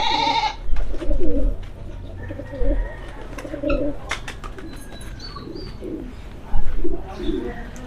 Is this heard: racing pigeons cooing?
yes